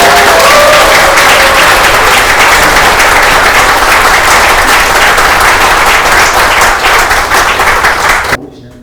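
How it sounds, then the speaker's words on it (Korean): Loud, sustained applause from an audience at a Korean book-launch event honouring a professor, dense clapping filling the space for about eight seconds before cutting off abruptly. "황태현 교수님께 여러분 뜨거운 박수를 한번 보내주시기"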